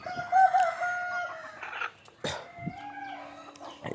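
A rooster crows loudly nearby, followed by scattered clucks and another shorter crow, with other country chickens calling intermittently in the background in the morning.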